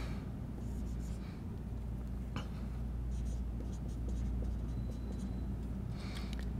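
Board being erased during a physics lesson on projectile motion, soft scrubbing and brushing strokes in short bursts over a steady room hum, close and faint, with a few quiet voice sounds.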